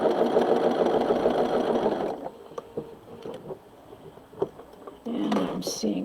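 A sewing machine runs steadily while stitching across a quilt seam, then slows to a few slow single stitches and soft clicks before the motor whirs up again briefly, with someone talking quietly.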